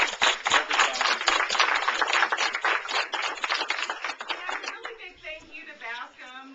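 Competitors at a competition awards gathering clapping for themselves, a quick run of close, fairly sparse hand claps that thins out and gives way to a voice near the end.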